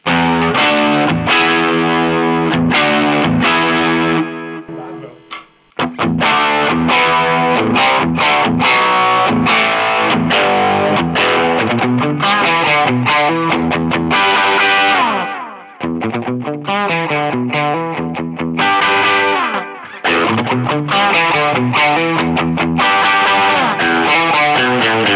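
An electric guitar played on the neck pickup through an Orange Micro Terror mini amp head rings out in continuous distorted riffs and chords. The tone is bright and shrill with heavy saturation, there are a few brief pauses, and no voice is heard.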